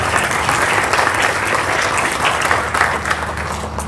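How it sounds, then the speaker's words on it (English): A school end-of-year ceremony audience gives sustained applause, a dense, steady clapping from a crowd filling the hall throughout. "Let's have a round of applause for our JV1 team."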